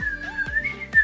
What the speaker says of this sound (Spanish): Silbando.